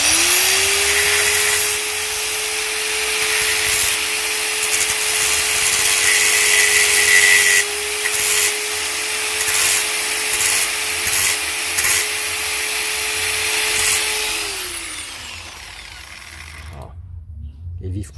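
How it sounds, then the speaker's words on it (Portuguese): Small pyrography pen connector tip gripped in pliers and sanded smooth, a steady close abrasive rubbing with a constant motor-like whine that runs continuously for about fourteen seconds before winding down and stopping. "Eu prendo o alicate só pra eu dar uma lixadinha nessa pontazinha aqui"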